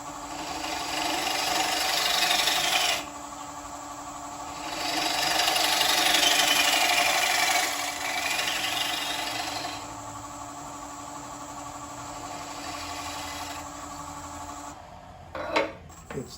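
A negative rake scraper works across a live-edge wood surface in long, steady, abrasive strokes. The loud, continuous rasping rises and falls between passes, ending with a few quick, sharp scuffs.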